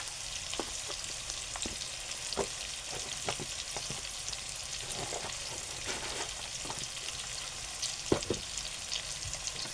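Masala spices stirred in a sizzling pan, with scattered soft scrapes and taps of the spoon over a steady frying hiss, moderately quiet and with no one talking.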